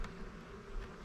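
Honey bees hum in a hive, a soft, continuous buzzing drone heard on its own without voices.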